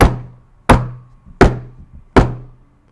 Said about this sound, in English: I hear a knock on my door